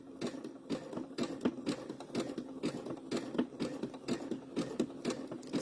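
Sewing machine stitching a Sunbonnet Sue quilt block, a close, quiet, rapid mechanical chatter with a steady hum, pulsing slightly as the speed varies.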